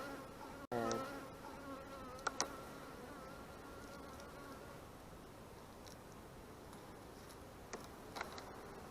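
Honey bees buzz continuously inside an opened hive covered in propolis. The hum is faint and steady throughout, with a sharp click near the start and a few light knocks later.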